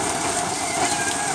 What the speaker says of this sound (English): It would rain like this for 12 hours.